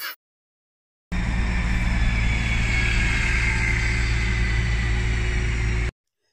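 A bus engine runs steadily for about five seconds, a loud continuous motor drone with a strong low rumble and broad hiss, starting and stopping abruptly with nothing else heard.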